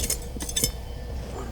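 Pieces of old glass clink together while digging at a buried dump site, a few short bright chinks close by with rustling in between and no voices.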